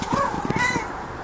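A domestic cat meows, a drawn-out wavering cry close by, heard over a background hum.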